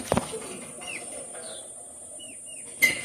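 Pakistani master bloodline pigeons give a few soft, brief calls in a quiet room, spaced out over a few seconds, with faint knocks at the start and end and a steady high hiss in the background.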